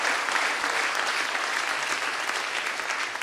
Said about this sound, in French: on peut vous applaudir, vous dire bienvenue